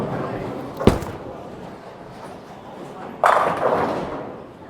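A 900 Global Wolverine bowling ball hits the lane with a sharp thud, then rolls with a low rumble before a louder burst of impact noise near the end, with some talking around it.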